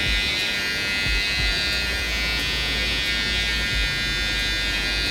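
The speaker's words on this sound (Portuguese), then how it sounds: "E aí eu venho com a máquina reta marcando" Electric hair clipper held straight, trimming and squaring a neckline during a haircut, a continuous close, loud high buzz with no talk.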